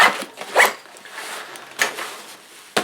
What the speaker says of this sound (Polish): Zamek błyskawiczny z jednej, jak i z drugiej strony.